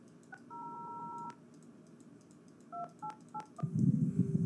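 Telephone keypad tones beep in a video game, first a quick run of six evenly spaced presses, then after a pause a few more separate presses, each short and clear over a quiet background.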